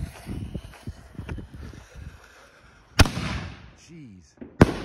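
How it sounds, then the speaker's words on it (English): Thundernation 5-inch firework canister shells going off outdoors, with crackling and rustling early, then a sharp loud bang, a whistling descending tone, and a second sharp burst near the end. "These are 5-inch Thundernation shells."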